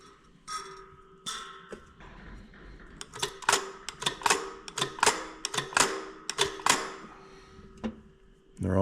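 Throttle linkage springs on a rat rod engine's tunnel ram snapping the throttles back against the idle screws, a rapid run of sharp metallic clicks and taps, close and loud, after a few sparse earlier clicks.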